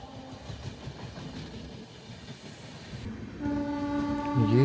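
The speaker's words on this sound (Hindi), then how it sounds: "ये राजेंद्र नगर वाली अमृत भारत बिल्कुल हमारे पीछे पीछे आ रही थी" An Amrit Bharat express train running toward Rajendra Nagar passes close by with a rumbling, rattling roll that swells louder, then long blasts of its horn sound near the end.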